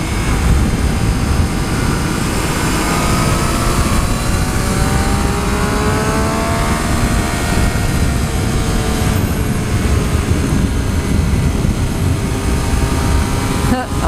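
A 2014 Triumph Street Triple R motorcycle engine drones steadily while riding, with loud, continuous wind rush and engine tone that rises and falls gently throughout.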